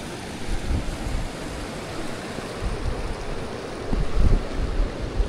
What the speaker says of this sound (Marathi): पाणी वरनं डोंगरातून खळखळून वाहत येते